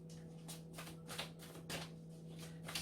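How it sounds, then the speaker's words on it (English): Tarot cards being shuffled by hand during a reading, a series of soft, quick riffling bursts spaced roughly half a second apart, faint and close against a low steady hum. "3 more shuffles."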